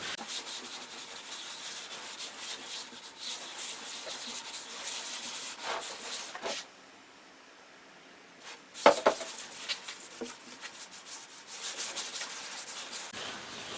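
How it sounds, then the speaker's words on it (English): Bear grease being rubbed by hand into the hide head of a 26-inch powwow drum: a steady close swishing rub that pauses briefly midway, followed by a few sharp knocks before the rubbing resumes. "I'm going to use about half a teaspoon or so, teaspoon maybe, of the bear grease, and rub it into the surface"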